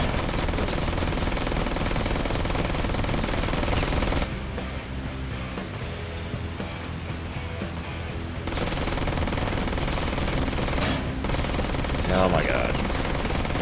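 A turret machine gun in the game Ride To Hell Retribution fires in long, loud sustained bursts with a short lull in the middle, and a voice briefly cuts in over the firing.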